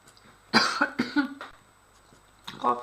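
A person coughs several times in close succession, harsh and close, followed by a pause and then another cough burst.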